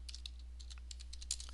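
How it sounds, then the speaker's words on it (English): Someone typing on a computer keyboard while entering text in a document, with quick, irregular key clicks that run steadily over a low constant hum. "I'm typing like I would type anything else in any document"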